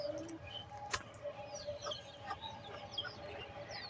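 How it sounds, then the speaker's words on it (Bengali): Domestic ducks kept at a rural home make a few short, bright calls and clucks in the morning, moderately near over a quiet background. "হাঁস"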